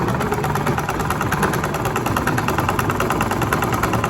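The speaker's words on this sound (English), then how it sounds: "Then you start to sew." A sewing machine running steadily through a continuous line of stitching, with an even, rapid mechanical whir and a close, constant chatter and no pauses.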